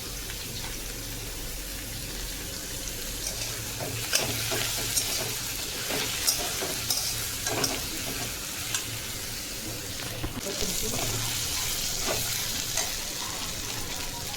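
Brinjal slices stir-fried with mustard seeds in a hot pan make a steady close sizzle, with spatula scrapes and light spattering ticks breaking through now and then, no voices.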